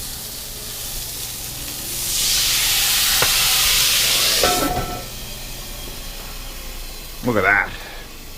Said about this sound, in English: It's expelling steam in the most amazing way.